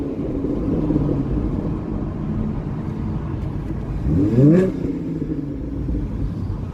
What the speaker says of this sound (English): Rev it up so you guys can hear the exhaust a little bit.